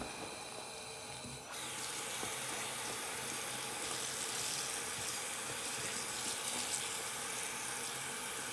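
Water runs steadily from a sink tap, a continuous hiss that starts up after a brief quieter moment and keeps flowing without pause.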